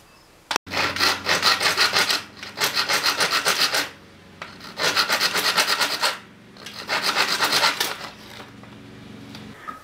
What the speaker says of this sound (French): vous allez faire vos encoches ici pour vos élastiques ou vos bandes avec une lime cylindrique